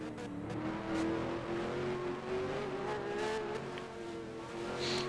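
Race car engine in a racing video game holds a steady, loud tone as it brakes into a turn, with a faint tyre squeal near the end under a commentator's voice.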